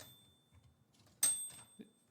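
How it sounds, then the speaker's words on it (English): A portable typewriter's bell rings once sharply and close, with a bright sustained ring at about the midpoint, followed by a quieter second strike and a soft knock, over a near-silent background. "The bell of the typewriter."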